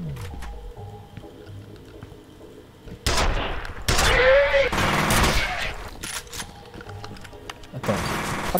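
Gunfire from the first-person shooter F.E.A.R., with bursts of shots and impacts in loud clusters across the clip and quieter game ambience between them.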